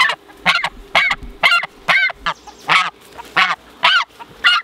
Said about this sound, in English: That's the goose that was in with the meat chickens.